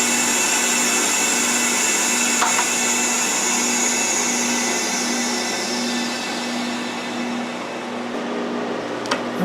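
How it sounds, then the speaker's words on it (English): Air hisses steadily through a drain valve into a freeze dryer with a strong, continuous rushing tone and mechanical hum, easing slightly toward the end. "Opening the drain valve will let the air come in"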